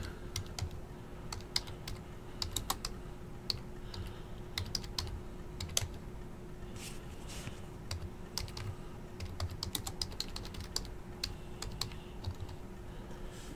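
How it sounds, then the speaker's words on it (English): Someone types names on a computer keyboard, with quick bursts of close, crisp key clicks separated by short pauses, over a faint steady hum. "let's type those names in"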